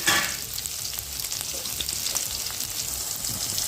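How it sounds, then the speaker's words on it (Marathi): Cumin, mustard seeds and chopped onion sizzle steadily in hot oil for a tempering, a loud bright crackle with a sharp burst at the start, heard alone with no voices. "इथं तेल कडलेलं आहे आपलं जिरं मोहरी आणि कांद्याची फोडणी दिली"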